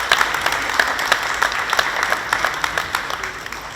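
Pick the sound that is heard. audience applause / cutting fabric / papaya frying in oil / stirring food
audience applause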